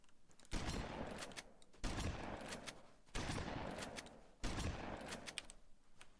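Four evenly spaced shotgun blasts in a video game, each a sharp boom followed by a decaying rumble, fairly quiet overall with no speech.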